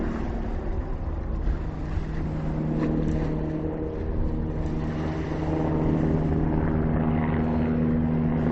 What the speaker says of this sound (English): Pity about the helicopter noise.